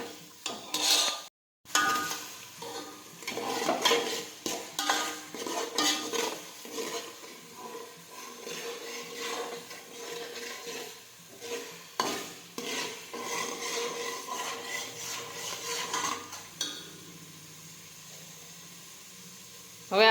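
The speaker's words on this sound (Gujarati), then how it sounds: "હવે સાતળી લઈશું થોડી વાર." Pav bhaji vegetables sauté in a pan, with a spoon scraping and clanking against the metal over a low, steady sizzle for a long stretch. The sound cuts out for a moment early on, and no one speaks.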